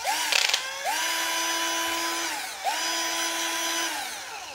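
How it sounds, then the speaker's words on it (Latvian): A cordless electric drill, just unboxed with a bit fitted, whirs up to speed, runs steadily, winds down, then spins up again, loud and close with no one talking. "Atpakojām to urbi, uzlikām to galu un rekur"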